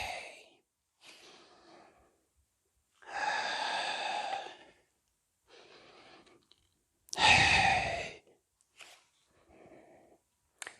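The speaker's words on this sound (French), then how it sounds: "Expiration, quand tu t'extrais du sol, tu dois vraiment souffler." Forceful exhalations during a plank core exercise, a series of strong breathy bursts of varying length separated by pauses, fairly close and with no talking.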